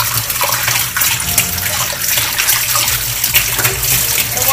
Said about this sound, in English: The water is too fast